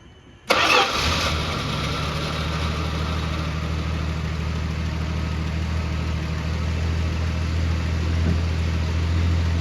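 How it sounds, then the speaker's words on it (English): A 1973 Dodge Dart Swinger engine cranks and fires up abruptly, then settles into a steady, even idle with a low rumble that continues close and loud without talk. "So let me start this up."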